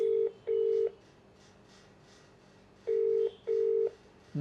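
Telephone keypad dialing, with four clear beeps in two pairs separated by a pause, loud and close against a quiet background with no voices.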